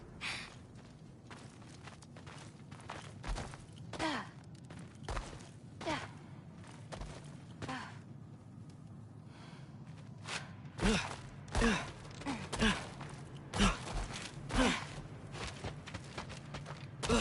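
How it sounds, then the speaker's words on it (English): Heavy creature breathing in a dark cellar in God of War Ragnarok, a series of loud, rasping breaths and huffs that come in uneven bursts, bunching closer together toward the end, with softer shuffling in the pauses. "I think I can hear something breathing near the back of the cellar."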